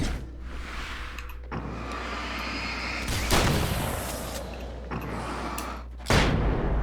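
Flash grenade explosion in Alan Wake's American Nightmare, a sudden loud broadband blast among several booming bursts over a rumbling game backdrop, with no talking.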